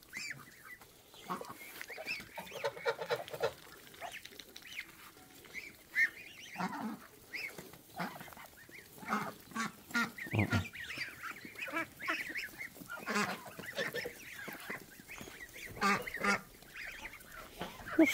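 A farmyard flock of ducks and geese honks and quacks repeatedly in overlapping, irregular calls, near and fairly loud, with no talking.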